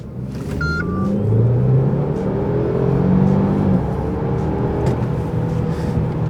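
A Mercedes-Benz E300e hybrid engine revs hard and close in Sport Plus mode, a loud deep roar rising and holding through the clip with a throaty rumble and no speech.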